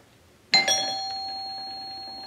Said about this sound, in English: That was the neighbor's doorbell.